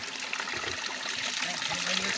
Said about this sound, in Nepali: पानी चाहिँ यसरी यहाँबाट आउँथ्यो